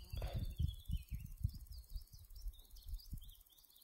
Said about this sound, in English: You can hear a yellowhammer.